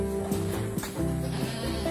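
A small native female goat bleats in a steady, sustained call, close and fairly loud, with other goat or sheep bleats overlapping in the background.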